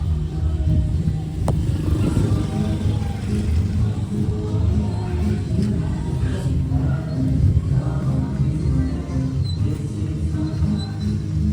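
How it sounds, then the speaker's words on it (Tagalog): A motorcycle engine idles and rumbles steadily at low pitch as it is brought out for a ride into town during a birthday outing, continuous and fairly close with little variation. "Nalalabas ang motor."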